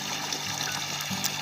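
Irrigation water trickles from a pipe onto a crop field, a constant soft splashing and gurgling flow heard on its own at a modest level.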